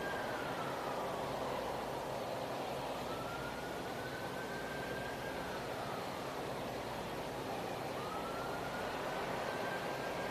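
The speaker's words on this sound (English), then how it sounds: "that's a siren" A distant siren wails in slow rising and falling sweeps over a steady wash of broadband noise, faint and far away, at SpaceX's Boca Chica launch site during a Starship static fire.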